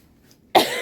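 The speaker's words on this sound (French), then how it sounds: "Et attendez, je vais tousser." A single close, loud cough bursts out suddenly after a moment of near silence, with a brief throat rasp at its tail.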